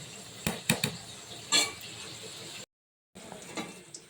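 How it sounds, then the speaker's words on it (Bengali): Fried potatoes and carrots tumble into a pot of cooking khichuri of rice and lentils, with sharp clanks of utensil on metal and a soft sizzle, brief knocks near the start and again after a short dropout. "এই যে ভেজে রাখা আলু দিয়ে দিচ্ছি আর গাজরটাও একই সঙ্গে দিয়ে দিলাম"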